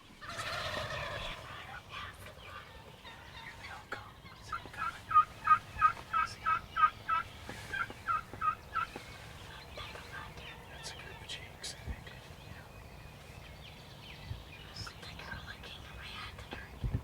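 Wild turkeys gobble off the roost during a Michigan spring hunt, a run of rapid rhythmic gobbles at middle distance among other soft calls, with people whispering.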